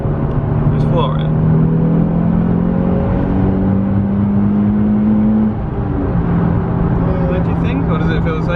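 Modded Nissan 350z engine pulling hard at full throttle from inside the cabin, a steady droning roar with rising harmonic sweeps that climb then settle, continuous and loud throughout.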